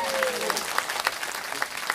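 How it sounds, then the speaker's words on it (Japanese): At a live concert, the audience applauds the band with a steady wash of clapping that has scattered sharper claps standing out, fairly loud and continuous. "毎一度大きな拍手をよろしくお願いします"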